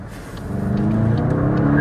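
A front-wheel-drive MK8 Volkswagen GTI on a freezing day revs its engine with a steady, rising exhaust note, close and loud, with faint pops of backfire near the end.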